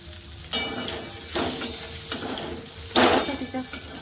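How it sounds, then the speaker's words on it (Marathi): Cluster beans (guar) stir-frying in a little oil, a continuous sizzle broken by several distinct scraping stirs of a spatula against the pan, the loudest near the end. "आपल्याला इथे गवार आहे ना ते थोडी वेळ परतून घ्यायची आपल्याला"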